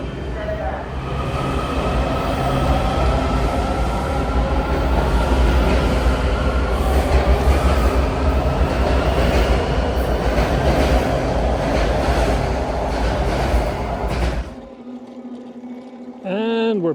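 Loud, steady rumble of a Washington DC subway train riding along the tracks, ending in a sudden drop to quieter sound with a faint voice-like warble at the close.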